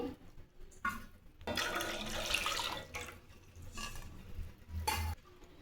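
Water, two bowls' worth, is poured into a cooking pot to make modak dough, arriving in a few splashing, gurgling bursts with brief pauses, faint and close with no talking.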